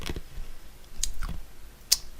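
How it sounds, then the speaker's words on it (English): Someone chews on ice cubes close to the microphone, a few sharp crunches and clicks spaced unevenly over a couple of seconds with quiet gaps between them. "I'm just chewing on ice because I like chewing on ice."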